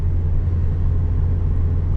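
Traffic backed up along a road rolls past in a continuous low rumble of car engines, steady and moderately loud with no voices.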